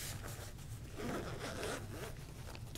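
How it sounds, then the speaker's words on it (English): A zipper on a small survival kit pouch is drawn closed in one continuous close pull, a soft rasping run that swells in the middle and tapers off, with no talk over it. "So we zip up this side"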